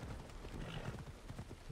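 Horse hooves clip-clopping in Assassin's Creed Odyssey, a faint, steady rhythmic series of muffled hoofbeats at a walking pace with no talking.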